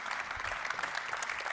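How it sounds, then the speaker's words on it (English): Audience applause at a summit session on environmental traffic management, a moderate, evenly sustained patter of clapping from a seated crowd, slightly distant and without speech. "May I have a round of applause for both of you?"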